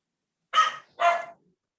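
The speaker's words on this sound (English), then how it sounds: "There's my dog in the background." A dog barks twice in quick succession somewhere in the background of a home during a lecture, two short sharp yaps with nothing else around them.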